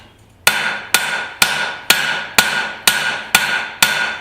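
A rounding hammer pounds thin steel stock, about 3/16 inch, while forging a garden cultivator: eight sharp, evenly spaced ringing blows, close and loud, after a brief quiet start.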